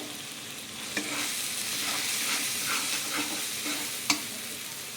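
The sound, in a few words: masala frying and stirring in pan with Kashmiri chili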